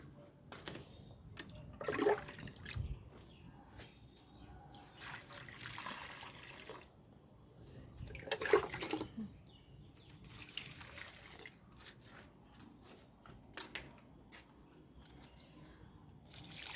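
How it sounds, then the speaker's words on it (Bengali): Garden plants being watered outdoors on a cloudy day: faint pouring and splashing comes in a few short bursts, with quiet trickling and soft handling noises between them. "তো চলো গাছগুলোই জল দিয়ে নি।"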